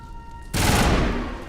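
A sudden loud burst of gunfire in Mass Effect, a sharp onset after near-quiet hum that sustains as a dense roar for about a second before easing slightly.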